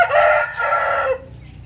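A Red Queen show-type hen clucks and calls loudly and close, in two bursts over a little more than a second, then falls to a quiet background.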